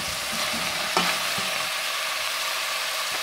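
Chopped celery and potato drop into a hot soup pot and sizzle steadily, with a brief clatter of stirring near the start and a constant frying hiss throughout.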